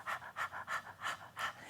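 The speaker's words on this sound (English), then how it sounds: "Easiest way to learn it is by panting out your mouth like a dog with" Rapid, rhythmic open-mouth panting like a dog during a breath-of-fire meditation exercise, six even breathy bursts in quick succession, close and soft, with no talking.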